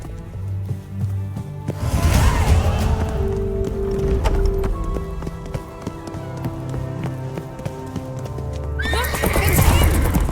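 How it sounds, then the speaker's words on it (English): In The Witcher 3 game, a horse neighs loudly, then gallops in a quick steady clip-clop of hooves, ending with another sharp whinny near the close. "Grab a horse, we'll chase him down."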